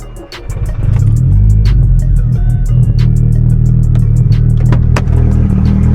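A Volkswagen Golf GTI bought for £700 cranks briefly and fires up, then settles into a loud, steady engine run close to the microphone, with no voices.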